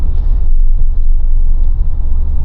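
A 2024 Mahindra Thar BS6 with six gears cruises on a highway, giving a loud, steady low-pitched road and engine rumble from inside the cabin with no break.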